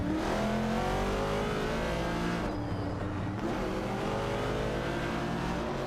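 Several race car engines roar and rev continuously in an AI-driven racing video game, a dense, steady engine drone with shifting pitch as cars overtake, loud throughout with a brief dip midway.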